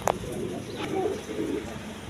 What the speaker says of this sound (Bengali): এখানে এক পেয়ার জ্যাকোবিন কবুতর আছে, দেখেন ডিম নিয়ে বসে রয়েছে হাড়ির মধ্যে।